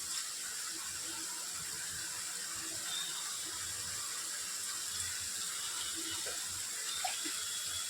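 Spice-bowl rinse water is poured into a pan while cooking a pabda fish curry, giving a steady soft watery hiss and trickle throughout, faint and continuous, with no talk over it.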